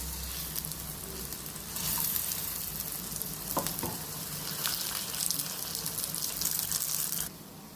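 Sweet paniyaram frying in a pan, a steady broad sizzle that swells for a few seconds while the dumplings are flipped to the other side, with faint clicks of the turning tool before the hiss drops away.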